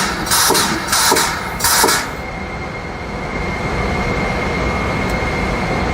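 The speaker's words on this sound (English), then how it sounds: "that's when you'll hear the motor kick in" HIP T Series high-pressure pump motor kicking in, a steady broadband whine and hum that holds on after three short hissing bursts at the start.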